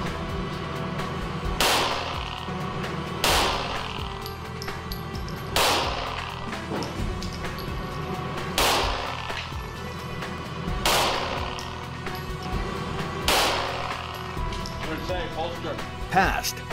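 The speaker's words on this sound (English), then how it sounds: "5 full metal jacket 9mm rounds" Five 9mm full metal jacket rounds fired at commercial glass with a 15 mil protective film, sharp loud shots spaced a couple of seconds apart, heard over a steady background hum.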